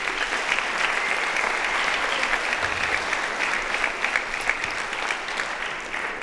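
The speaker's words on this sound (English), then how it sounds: "let's give a round of applause to Juan." Audience applause for a percussion musician at a university percussion studio concert, a steady, dense wash of clapping held at even loudness throughout, fairly close, with only faint crowd murmur beneath.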